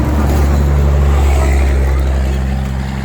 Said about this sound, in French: On a aussi des gros camions qui font du bruit à côté de la route.